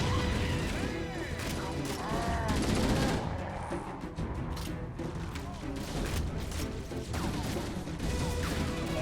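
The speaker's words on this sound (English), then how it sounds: "I don't know why I'm treating this automatic like a semi-auto" Automatic rifle fire in Halo: Combat Evolved, dense bursts of gunshots mixed with crashes and explosions, continuous and loud through the whole stretch.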